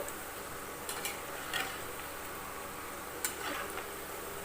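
Cabbage pakoda frying in oil as a soft, steady sizzle, with a few light clicks and scrapes as the fritters are turned, heard quietly with no talking.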